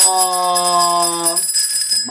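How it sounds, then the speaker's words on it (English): A bell rings once in a quiz game, a bright sustained ringing tone that decays over about a second and a half before faint room noise and movement follow. "Ben, ring that bell!"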